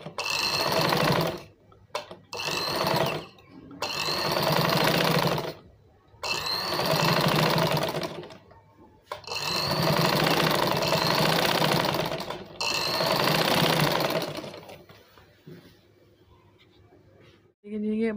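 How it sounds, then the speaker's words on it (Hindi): A sewing machine stitching the side seam of trousers, loud close bursts of rapid whirring stitches separated by short pauses, with someone speaking between runs. "ये देखिए इसी तरह से हमने इसकी दूसरी साइड पे भी सिलाई लगा लेनी है।"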